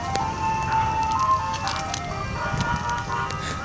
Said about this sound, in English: There goes two ice cream trucks.